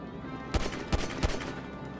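A weak gun in GTA V Online fires three separate shots about a third of a second apart. Each is a short, punchy report over a steady bed of game ambience.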